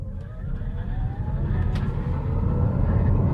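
A Honda e:Ny1 electric car launching hard from standstill in sport mode, tyres spinning, with a steady low road rumble and motor whine that builds gradually in loudness across the run.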